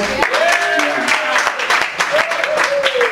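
Comedy club audience applauding a question put to the crowd, steady dense clapping filling the room with a few cheers and voices mixed in, loud and close throughout.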